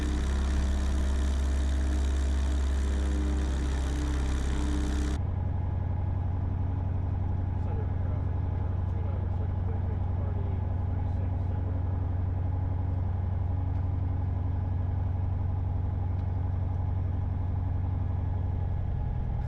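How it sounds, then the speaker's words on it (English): A light aircraft engine running steadily through a pre-takeoff run-up with the fuel mixture leaned and 10 degrees of flaps set at high density altitude. A loud, broadband engine roar for about five seconds, then a steady lower drone to the end. "I'm doing my pre-takeoff run-up, and I'm leaning my fuel mixture for maximum engine performance"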